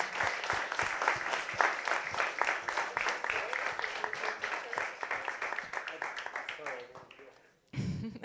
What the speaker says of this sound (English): let's do a round of applause for the Ukrainian teams.